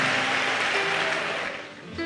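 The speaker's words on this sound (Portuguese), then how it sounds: "uma salva de palmas a Jesus" A church congregation applauds together, a dense, steady wash of clapping filling the room, slowly thinning toward the end as a few tones ring through.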